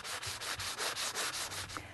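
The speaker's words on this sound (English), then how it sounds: "To take care of the wood handles and keep them smooth, use a sanding sponge." A sanding sponge is rubbed back and forth on a wooden tool handle in rhythmic strokes, a close, soft, steady scraping of about eight passes with no voices.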